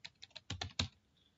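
A password being typed on a computer keyboard, a short run of about six close, quiet key clicks in an uneven rhythm.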